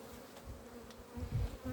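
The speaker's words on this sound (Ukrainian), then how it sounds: "Гул стоїть на пасіці хороший." Low steady buzzing hum of many honeybees, close by and continuous, with a few louder rumbles toward the end.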